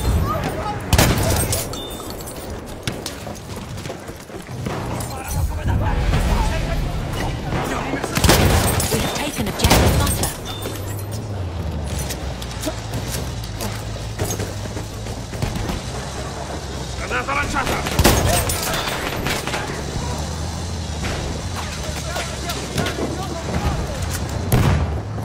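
Bursts of machine gun fire and heavy blasts in the Battlefield 1 video game, with loud shots recurring through the clip under frequent in-game voice callouts.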